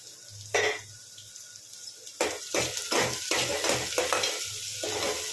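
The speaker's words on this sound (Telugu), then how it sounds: "ఉల్లిపాయలు అయితే మంచి కలర్ వచ్చే వరకు వేయించుకోండి." Onions and green chillies frying in a pan for chicken curry, a soft continuous sizzle broken by repeated scraping stirs and clinks of a spoon against the pan, close and moderately loud, no talking.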